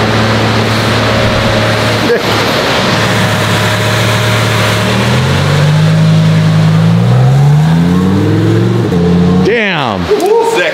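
A supercharged Ferrari Aperta pulls away and revs, a loud close engine drone climbing in pitch through the gears, then a sharp rising whine as it accelerates hard.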